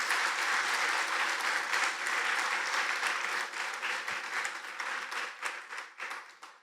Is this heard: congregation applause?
yes